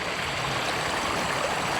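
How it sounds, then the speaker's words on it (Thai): The Chan River in rural Laos flows steadily with a broad, even rush of water, like a stream or small rapids. The sound is continuous and fairly loud, with no voices. "เบิ่งแม่น้ำสาร กำลังไหล"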